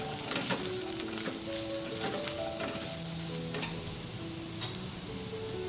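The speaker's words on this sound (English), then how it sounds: "I'm going to fry the carrots with the chili paste" Carrots frying with chili paste in a pan, a soft continuous sizzle with occasional stirring clinks, faint and alone without talk, over quiet background music.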